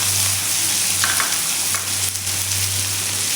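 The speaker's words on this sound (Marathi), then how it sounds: "कांदा आपल्याला तेलावरती छान असा 1 मिनिटभर असा आपल्याला परतून घ्यायचा आहे." Two finely chopped onions sauté in hot oil seasoned with asafoetida for a dry mutton curry, giving a steady, loud, close sizzle with a faint low hum and a few light stirring scrapes throughout.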